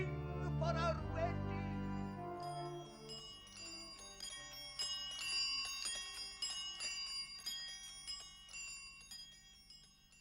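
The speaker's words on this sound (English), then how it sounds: "And all the bells of the tills of the town shall ring for our wedding." Bells ringing in a small Welsh seaside town, the narrated tills of the town pealing for a wedding: layered, sustained chiming tones with overlapping strikes, loud at first and then steady, with no talking.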